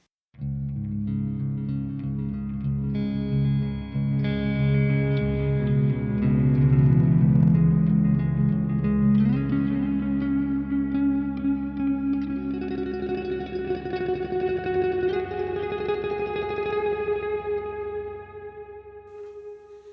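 Post-rock guitar on a baritone guitar drenched in effects, slowly swelling layered chords that build and then fade out over about twenty seconds, with no talk.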